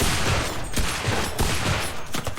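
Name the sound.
semi-auto gunfire in the video game Enlisted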